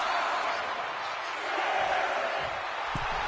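A packed arena crowd in the WWE 2K25 wrestling video game keeps up a steady, dense roar of cheering with a slight swell midway, and faint thuds near the end.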